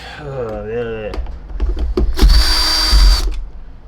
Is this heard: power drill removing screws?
yes